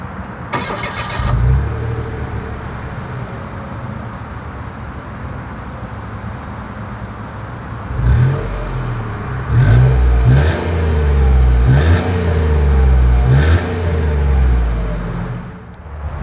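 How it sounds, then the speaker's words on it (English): A 2023 Mitsubishi Mirage G4 starts with a brief crank, settles into a steady idle, then its exhaust rises through several loud revving bursts near the end, with no talking. "As always, here is that exhaust clip."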